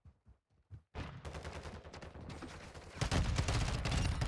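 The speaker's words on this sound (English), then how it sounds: "I'm going at him with a pistol" Pistol shots ring out in an online shooter video game, starting with a few separate cracks, then a dense stretch of rapid gunfire that grows louder toward the end.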